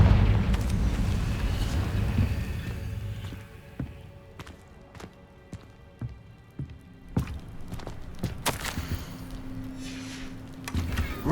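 A fiery Confringo spell from Hogwarts Legacy bursts in a few sharp explosive cracks, standing out loud and sudden over quieter game ambience and footsteps.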